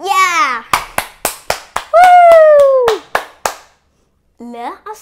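Round of hand claps, roughly eight sharp separate claps in an irregular rhythm, mixed with a voice and short speech between them.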